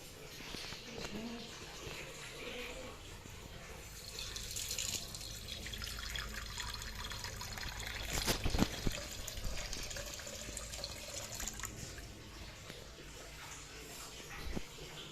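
A water tap running steadily into a sink or container, faint hiss and splash continuing throughout, with brief knocks and a voice in the background.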